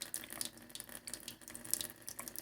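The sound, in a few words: tap water running over lacquered tissue foil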